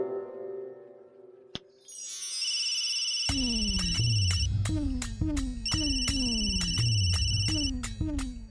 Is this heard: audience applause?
no